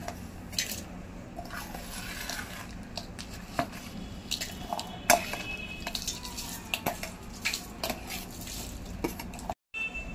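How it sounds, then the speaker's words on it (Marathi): Garlic-coconut chutney ingredients being scraped and tipped into a mixer jar, with scattered clinks, taps and soft scraping of a spoon against metal, some sharper knocks, and quiet handling with no talking. "आता आपण ही मिक्सीच्या जारमध्ये चटणी, हे खमंग चटणीचे सगळे पदार्थ जिन्नस याच्यात काढून घेऊया."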